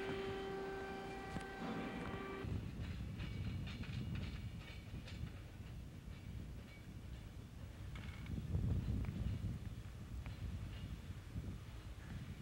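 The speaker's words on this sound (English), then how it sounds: "a trainload of coal is loaded and sent on its way" A coal train rumbles through a tunnel in Alaska, a low continuous roar with rail clatter and faint clicks, swelling somewhat louder toward the middle, after a brief steady tone at the start.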